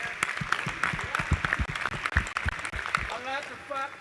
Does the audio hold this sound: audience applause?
yes